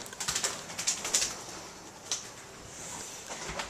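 A pigeon-like bird trapped indoors flutters and flaps its wings in short bursts, with faint soft calls over a hissy room background.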